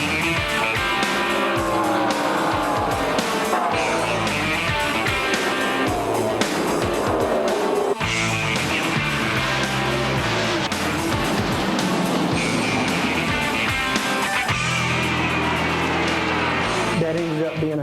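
Rusty Wallace's Kodiak Pontiac Grand Prix NASCAR race car roaring out of a corner, engine note rising and falling through gear changes amid other cars, with a commentator talking over the loud racing.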